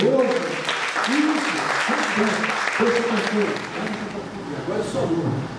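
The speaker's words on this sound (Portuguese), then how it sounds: "Dê um aplauso caloroso" Warm applause from a church congregation welcoming a speaker to an elective class, with a voice talking over the clapping throughout.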